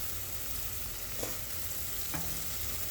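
Beef tips sizzle on a Blackstone griddle in a loud, steady hiss of frying, with a couple of faint scrapes as they are moved around, no one speaking.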